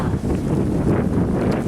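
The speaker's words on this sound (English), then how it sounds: "The wind gust is coming from there." Strong blizzard wind gusts from a bomb cyclone in Connecticut, roaring continuously and loudly against the microphone with dense, rumbling buffeting and no voices.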